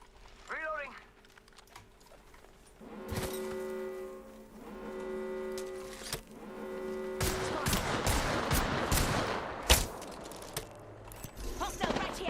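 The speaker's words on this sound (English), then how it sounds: "They're shooting at me. I'm spotted. Taking fire." Gunfire in the Apex Legends battle royale game, with bursts of shots and sharp cracks cutting through a dense mix of game effects and music, while a player talks over it.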